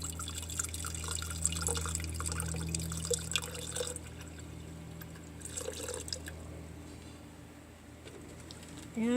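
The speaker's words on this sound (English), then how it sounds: "So let's give her some water here." Water trickles and drips as an orchid keiki's exposed aerial roots are watered by hand indoors, soft close splashes over a steady low hum, with faint bird calls in the background.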